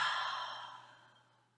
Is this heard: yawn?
yes